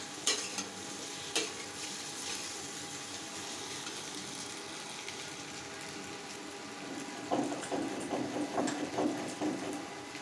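Egg frying in a pan on a home stove, a steady sizzle with clinks and scraping of a spatula that grow louder toward the end, no voices.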